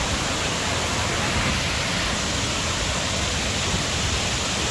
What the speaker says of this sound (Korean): 산에서 내려오는 물이에요.